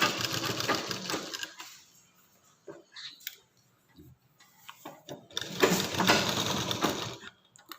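Stitching along a folded fabric edge on a sewing machine, heard in short close bursts of rapid mechanical whirring with quiet pauses between runs and no talking.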